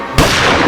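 A single loud pistol shot from a courtroom TV drama cracks out sharply after a brief quiet lead-in, followed by a sustained, booming reverberant tail.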